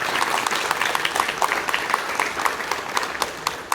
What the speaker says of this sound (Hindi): हम सभी के लिए एक बार तालियां बजाकर उनका सम्मान प्रेषित करें।